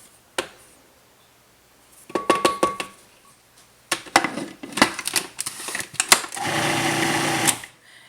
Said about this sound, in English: And then you actually add another cup of flour to the food processor and then process again.